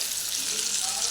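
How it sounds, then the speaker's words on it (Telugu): Mango pieces drop into a hot oil tempering with fried spices and organic asafoetida, giving a steady bright sizzle and crackle close by. "ఇప్పుడు ఆ మ్యాంగోస్ని మనం వేయించుకున్న పోపులో వేయాలన్నమాట"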